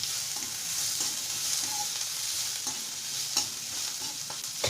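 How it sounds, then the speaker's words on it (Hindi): Onions frying in a pan over a low flame for Bihari-style aloo kumhrauri, a steady soft sizzle with occasional light stirring scrapes, close and moderately quiet, no voices. "और इसे हम थोड़ा सा पिंकिश होने तक प्याज को भून लेंगे"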